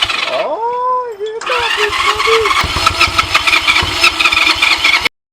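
A Honda Rebel 250 motorcycle with a freshly cleaned carburetor and repaired head cranks and fires on its first run, sputtering into a rough, uneven idle up close while a person talks over it.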